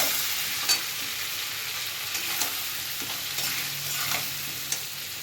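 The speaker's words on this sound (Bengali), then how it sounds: "টমেটো দিলাম, বেশ খানিকটা কষিয়ে নেবো, টমেটোটা গলে যাবে" Tomatoes are stirred and sautéed in a pan for muri ghonto, giving a continuous moderate sizzle with occasional light scrapes and taps of the spoon.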